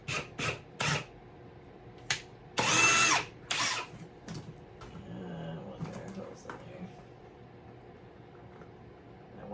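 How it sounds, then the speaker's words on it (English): Several short bursts of a power drill whir close by, drilling a hole near the top of a DIY chicken water feature, with one longer grinding run, separated by quiet pauses and faint background noise. "we're going to drill a hole here up by the top."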